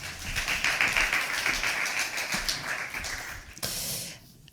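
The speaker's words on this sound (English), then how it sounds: "Welcome everybody with a nice and warm applause, please." Audience at a science-week panel discussion in Berlin gives warm applause welcoming the panel speakers, a dense steady wash of many hands clapping that continues for several seconds before tapering off.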